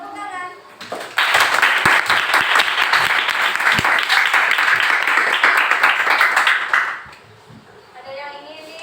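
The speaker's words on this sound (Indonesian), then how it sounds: "tepuk tangan" A classroom group breaks into applause after a short stretch of speech, the clapping loud and dense for several seconds before fading back into talk.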